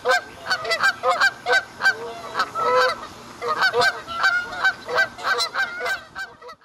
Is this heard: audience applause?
no